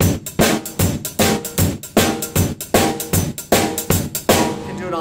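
A traditional 1950s-style rock shuffle is played loud on a drum kit, with a punchy bass drum, a swung cymbal pattern and a heavy 2 and 4 backbeat. The groove is steady, close and dense, with no voices.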